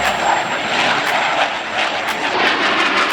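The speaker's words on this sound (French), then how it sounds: "Ce sont deux autres avions." Military aircraft pass over the naval air base at Hyères, a loud, steady wash of engine roar with a faint high whine throughout and no voices.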